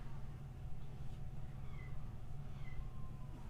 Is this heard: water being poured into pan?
no